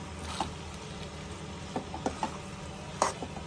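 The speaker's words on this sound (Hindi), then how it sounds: "अभी चीज भी मिक्स कर देगा।" Cheese is being stirred into creamy pasta in a pan, giving a soft sizzle with scattered close scraping and clicking stirs.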